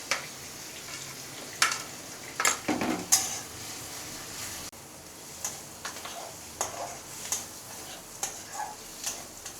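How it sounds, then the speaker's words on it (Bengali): Onion, garlic and a small amount of chili paste fry in a pan for a chicken dish, with scattered stirring clatters and light sizzle under quiet background ambience, no voices. "পেঁয়াজ রসুন লঙ্কাটা মোটামুটি ভাজা হয়ে গেছে"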